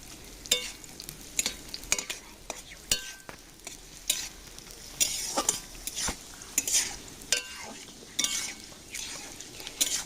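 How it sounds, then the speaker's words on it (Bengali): Grated coconut fries in oil in a wok, a soft sizzle punctuated by sharp, rhythmic scrapes and clacks of a spatula against the metal, loud and close, with no speech. "কড়ার মধ্যে তেলটা দিয়ে এবার নারকেলগুলোকে ভেজে নেব।"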